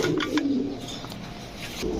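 Teddy, Shaharanpuri and Budapest pigeons coo close by in a low, throaty burble with a few faint chirps, with no voices over them.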